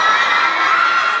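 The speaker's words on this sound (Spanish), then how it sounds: "¡Fuerte, fuerte ese aplauso!" Crowd at a signing and dinner event with a band, loud sustained cheering and high-pitched shouting from many people, a dense roar filling the whole moment.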